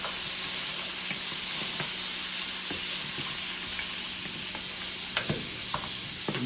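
Pork frying in a pan for mechado while being stirred, a steady loud sizzle and hiss with scattered scraping clicks from the spoon throughout.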